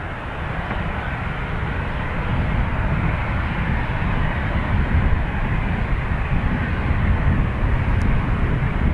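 A Ryanair airliner takes off from Dublin Airport, bound for Stansted, its steady broadband jet roar loud and sustained throughout with no other sounds.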